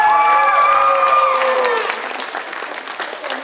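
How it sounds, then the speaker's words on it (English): A school audience at a tenth-grade story slam applauds the winners, brief dense clapping mixed with a few whoops and cheers that fades slightly toward the end. "One more round of applause for all of our winners and all of our contestants today."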